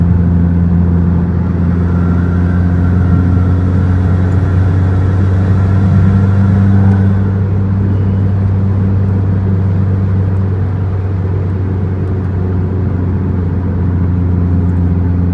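A car fitted with a homemade DIY intake and a Go Fast Bits DV+ diverter valve drives along a road, its steady mid-range engine drone loud and constant, with a brief higher whooshing intake tone in the first half.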